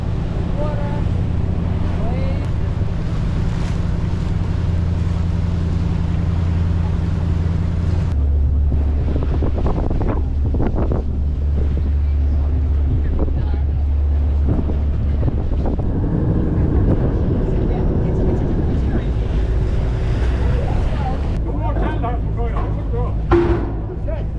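A boat motor drones steadily while wind buffets the microphone, with occasional voices heard over the engine noise.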